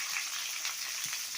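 Mango pieces and capsicum frying in a hot wok for a star fruit chaat, giving a steady close hiss of sizzling oil with faint stirring taps and no voices.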